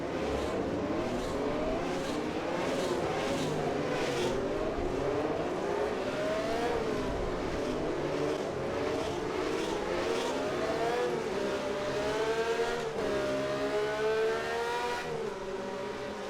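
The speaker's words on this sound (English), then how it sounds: "Down the gear in the chicane, hard on the power on the exit." A Matra V12 race car howls around the 1966 Monaco circuit in rFactor 2, its engine pitch climbing through repeated gear changes and dropping on downshifts, loud and continuous with no voices.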